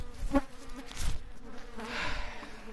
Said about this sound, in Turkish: Burada bu kadar arı var.